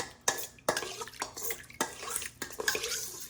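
Water splashes and trickles into a metal roasting tin holding seasoned oxtail, with clinking and scraping of cookware mixed in, close and fairly quiet.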